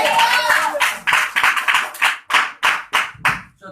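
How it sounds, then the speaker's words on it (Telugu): A church congregation claps hands loudly in a run of sharp, separate bursts, roughly a dozen in quick succession, close and forceful. "గట్టిగా చప్పట్లు కొట్టిన"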